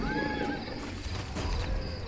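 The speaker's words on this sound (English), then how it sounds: "My horse." A horse in the fantasy video game ArcheAge gives one clear whinny near the start, followed by a steady game background with no talk.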